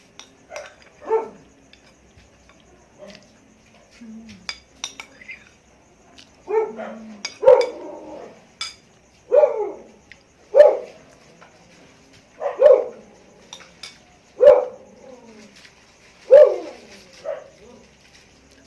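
A pet dog named Princess barks outside, sending out a long series of single barks about every two seconds, fairly close and clear, with some faint clinks and quiet background sounds in between.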